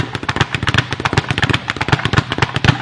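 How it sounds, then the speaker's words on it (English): Speed bag struck in a double-fist boxing rhythm, a fast run of sharp, evenly spaced thumps and rebounds, loud and close with no talking. "Fist hits a bag, one, two, and comes back."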